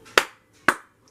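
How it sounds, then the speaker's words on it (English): Two sharp hand claps, about half a second apart and fairly close, each ending quickly in a quiet room. "all of a sudden, you hear a couple claps"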